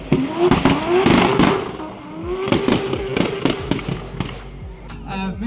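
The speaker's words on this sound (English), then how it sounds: "listen to the limiter on that 20B engine there as Axel flies through" A 3-rotor 20B rotary engine in a drifting Volvo bouncing off the rev limiter, rapid sharp bangs and crackles over screaming revs and tire noise at a drift competition, with a commentator talking over it.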